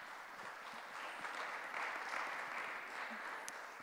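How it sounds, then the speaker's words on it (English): Audience applause at an onstage event as a young team member is welcomed to the stage, a steady wash of clapping held at a fairly low, distant level throughout. "Let's give Alex a round of applause"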